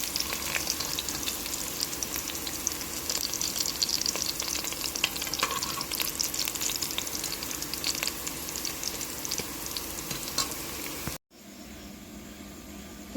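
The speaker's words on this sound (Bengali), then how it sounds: "দেখুন পেঁয়াজ রসুন লাল লাল করে ভাজা হয়ে গেছে" Onion and garlic fry in a pan for a chicken curry, a steady loud sizzle with stirring scrapes running continuously, then cutting off abruptly near the end before a quieter hiss resumes.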